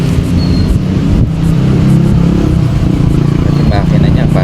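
A restored Honda XRM 125 motorcycle with an overhauled carburetor idling close by, a steady loud engine chug with a faint rattle running throughout.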